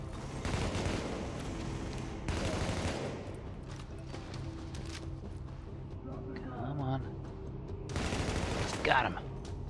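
Gunfire bursts in a subway morgue firefight in The Division, loud rattling volleys in several clusters with quieter gaps and scattered shots between.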